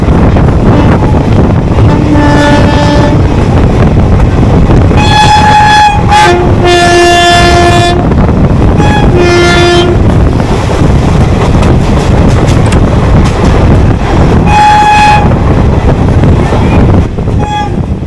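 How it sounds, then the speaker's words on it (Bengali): A train arriving at Salar station: loud, continuous rumble of the carriages close by, with several long horn blasts repeating over it and rail clatter underneath. "সালারে এ সাইড আমাদের ট্রেন পৌঁছে গেল 5টা বেজে 15 মিনিটে"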